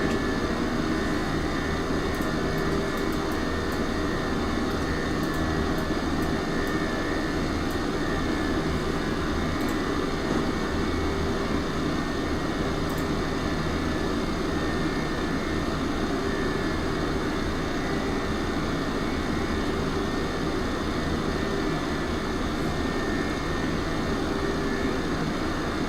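An airplane's engines drone steadily throughout a landing approach in a flight simulator video game, a constant loud hum and whine with no voices.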